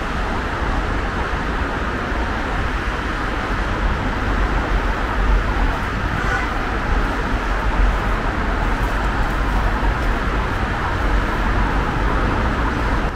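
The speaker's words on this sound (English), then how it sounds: "Sorry for the sound of the traffic, but yeah, can't, go, can't get rid of it here. This is the ring road, Mittlerer Ring." Dense road traffic on Munich's Mittlerer Ring ring road in Berg am Laim, a loud, unbroken roar of passing cars and heavy vehicles heard close by from the roadside.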